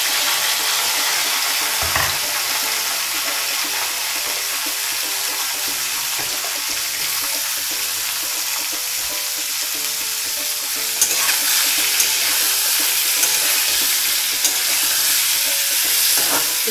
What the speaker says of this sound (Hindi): अब इसमें ये जो हमारे कच्चे आम हैं वो हम इसमें डाल देंगे